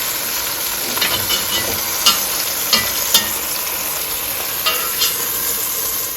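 Beef for a pot roast sears in a hot pot with a loud, continuous sizzle and crackle, broken by a few sharp clinks of a utensil against the metal.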